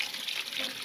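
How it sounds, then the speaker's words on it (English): Tap water runs steadily into a sink as topshells are rinsed, giving a continuous close splashing hiss with no voices. "So we'll put them in the sink and we just rinse them."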